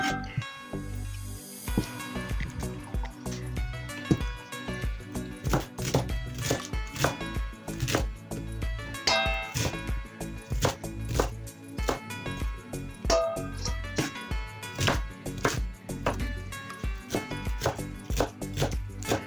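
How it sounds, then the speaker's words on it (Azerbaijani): Purslane being chopped on a board for pickle, a steady run of quick, close knife strikes going on throughout without pause. "Doğrayıb bir tasa yığırıq."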